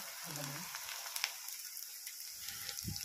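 Ginger garlic paste fries in a pan for a cauliflower tomato masala curry, giving a soft, steady sizzle with faint crackles and a couple of low stirring thumps, quiet and close.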